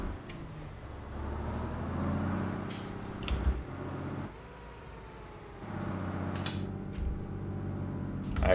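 A heavy truck engine in a truck-driving video game drops a gear partway through, its deep rumble dipping then climbing again, with brief hissing bursts near the start and end.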